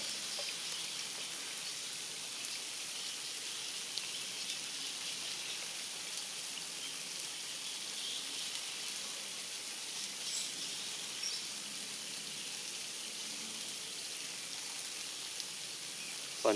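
Rain falls steadily at a sandy fishing pond as an even, unbroken hiss with no pauses, and no voices are heard.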